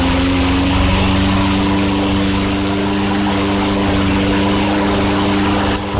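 A 2002 Craftsman Tecumseh 4.25 HP small engine runs steadily nearby, a loud, even, buzzing drone with a constant pitch and no speech.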